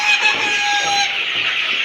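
Fayoumi chickens cluck and call on a poultry farm, a close, busy chorus of hens with a sharp tonal squawk standing out, no voices.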